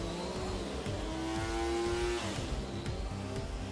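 A three-cylinder MV Agusta motorcycle engine running on a dyno in an indoor test room, loud and steady, with a sustained droning tone and rough mechanical roar that swells slightly before settling.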